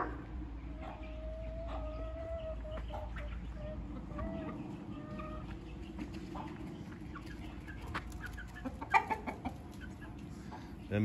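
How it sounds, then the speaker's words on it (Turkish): Chickens cluck softly and continuously nearby while eating feed, over a low background hum, with a few sharper pecking and clucking sounds toward the end. "Tavuklarımız yemlerini yiyor."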